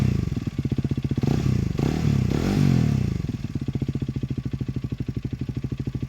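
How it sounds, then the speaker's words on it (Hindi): A motorcycle with its stock exhaust produces a close, steady thumping pulse that swells briefly as the throttle is blipped, then settles back into an even, rhythmic idle. "मुझे पर्सनली इसका एग्जॉस्ट नोट पसंद आया"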